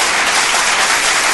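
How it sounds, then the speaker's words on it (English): Applause from an audience at a live gospel event, a steady wash of many hands clapping throughout, loud and close, with no talk over it. "Let them clap for you."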